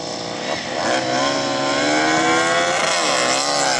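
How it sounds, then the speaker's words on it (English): A MotoGP racing motorcycle engine screams steadily at high revs, loud and continuous with slight pitch swings as it accelerates, and no voices are heard. "Now let's have a listen to that MotoGP bike."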